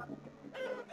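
Chicken man units in the Totally Accurate Battle Simulator game let out short bursts of clucking, the noise swelling in the second half of a brief one-second moment.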